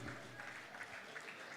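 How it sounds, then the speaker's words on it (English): Faint applause from an audience at a live church event, a soft steady patter of clapping heard from a distance with no talk over it. "Please make that applause for him a lot louder than that"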